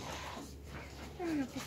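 A fat dog on an outing in Gurzuf, Crimea gives a short, high whimper near the end, close by, over outdoor background noise and a person talking.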